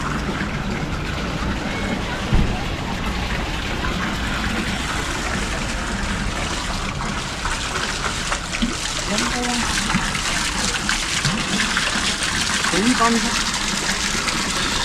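Cold water gushes and splashes continuously as water bottles are filled at an outdoor camping spot, close and steady, with people talking over the flow.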